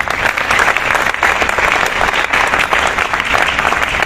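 Sustained audience applause fills a lecture hall, a dense, even wash of many hands clapping at steady loudness throughout with no pauses.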